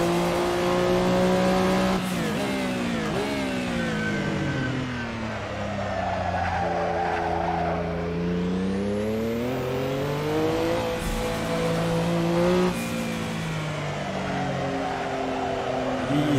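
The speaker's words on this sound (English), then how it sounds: "And that turbo kicks in so hard." Porsche 962 C Short Tail race car with a turbo engine at Barcelona GP in Assetto Corsa, its loud continuous engine tone climbing and dipping through revs alongside tire squeal, with no voices.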